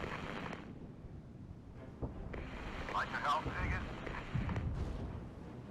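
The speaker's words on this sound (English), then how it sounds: "Time for an artillery barrage there." An artillery barrage in the war video game Regiments rumbles and booms in a dense, continuous wash of distant blasts, with no clear gaps between impacts.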